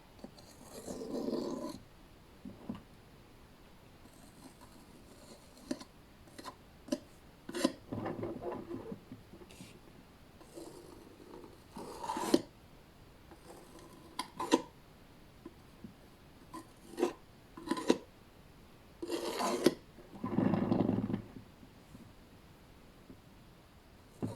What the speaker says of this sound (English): scrape this off. Make room for some more paint.